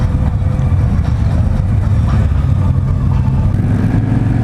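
A 2016 Victory High-Ball motorcycle engine rumbles loud and close while riding, its deep throb rising and easing slightly as the rider shifts and cruises.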